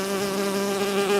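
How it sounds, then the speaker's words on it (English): A honey bee buzzes steadily and loudly up close, a continuous droning hum with no pauses. "Honey bee,"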